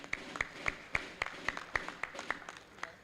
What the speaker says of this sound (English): Clap for Lagos.